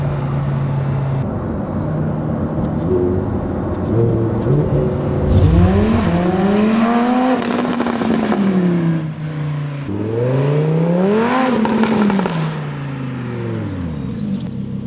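A 2015 Lamborghini Huracán supercar accelerates hard from inside, its engine rising in pitch through two long revving pulls with a shift between them, loud and close with a whirring undertone.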